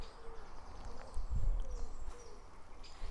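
Soft pigeon cooing mixed with small birds cheeping in a quiet, grassy Suffolk churchyard among old headstones, faint calls scattered over a low outdoor background.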